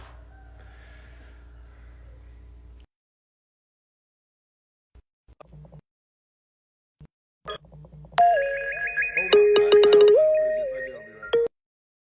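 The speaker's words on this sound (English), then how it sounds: "I had an alarm go off on my phone." A phone alarm goes off, a bright repeating electronic tone pattern with stacked chimes that starts after a few quiet seconds and faint low hum, loud and close, then cuts off abruptly.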